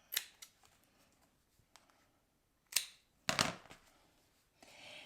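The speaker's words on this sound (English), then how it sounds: "now you just cut off the edges" Scissors snip through paper scraps while finishing a handmade card bow, with a few sharp separate cuts, one louder crunching burst near the end and light rustling between them, close and quiet, with no talk.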